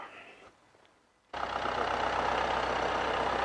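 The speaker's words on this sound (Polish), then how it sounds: "tak właśnie pracuje silnik" A Ford 2.2 TDCi diesel with freshly installed injectors, 74 kW and 280,000 km on it, starts after a quiet moment and settles into a loud, steady idle with a constant low rumble.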